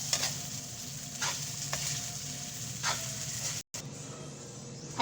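Leftover day-old rice (bahaw) stir-fried into Filipino garlic fried rice, sinangag, with steady close sizzling and repeated scraping stirs of a spatula in the pan, one brief break near the end.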